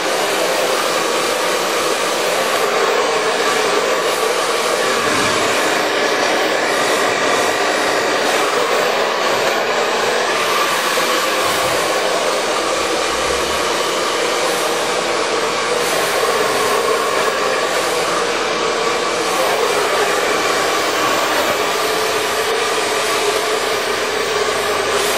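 A handheld hair dryer blows steadily and loudly at close range while hair is being dried, a continuous broadband whoosh running without a break for the whole stretch with no talking.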